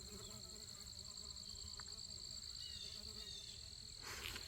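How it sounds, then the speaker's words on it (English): A steady, faint buzz of bees drones throughout among squash plants against low background rumble, close by. "Ooh, it's full of bees."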